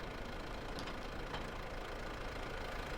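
A tractor engine idles steadily in Farming Simulator 22, a continuous mid-to-low rumble with faint knocking texture, even and unbroken throughout.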